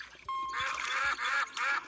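A squeaky rubber duck quack from a virtual bathtub game app on a phone or tablet, a high nasal honk repeated in a few close, bright bursts with no talking.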